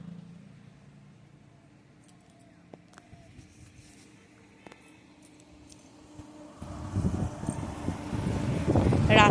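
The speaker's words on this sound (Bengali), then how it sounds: "এখন ওপরে বেশ ভালোই বাতাস দিচ্ছে" Wind blows outdoors under a heavily clouded sky before rain, soft and low at first, then rising into strong, buffeting gusts against the microphone over the last few seconds.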